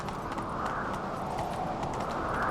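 Roach, a horse in The Witcher 3, gallops with steady rapid hoofbeats, close and continuous throughout, with no talk over it.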